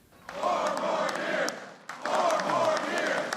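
A friendly crowd of union workers cheers and shouts at a President Biden rally near the White House, in two sustained roaring bursts with a short dip between them, dense and reverberant.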